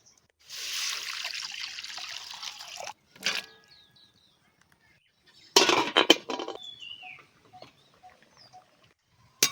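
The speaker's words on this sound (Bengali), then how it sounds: "উনান ধরিয়ে কড়াই বসিয়ে দিয়েছি এবার কড়াইয়ের মধ্যে জল দিয়ে দিচ্ছি" Water is poured from close by into a wok set on a lit stove while mangoes are being boiled. The pour comes in two separate splashing bursts with quiet gaps and faint drips between them.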